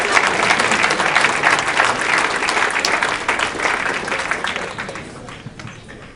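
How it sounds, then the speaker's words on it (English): Sustained applause from an audience at a school district distinguished achievement awards ceremony, dense and steady, tapering slightly toward the end. "Round of applause."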